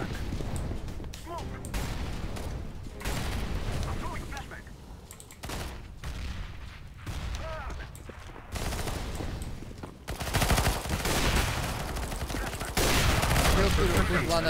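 Rapid bursts of gunfire crackle in dense volleys with explosive booms in the game Counter-Strike: Global Offensive, loud throughout, breaking briefly before another heavy barrage.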